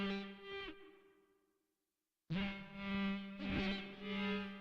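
Synth layers being tweaked on hardware, a buzzy sustained tone with a steady drone and wavering, chorused overtones that fades to silence, then returns loud and pulsing with rhythmic swells.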